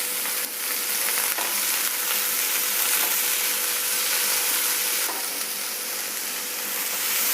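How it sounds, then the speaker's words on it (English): Onions sauté on medium flame in a pan with salt, giving a steady, close, even sizzle and hiss with a few faint stirring scrapes and no voices. "now we saute the onions on medium flame so they become a little translucent"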